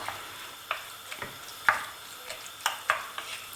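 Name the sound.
stirring spices into mechouia in a pan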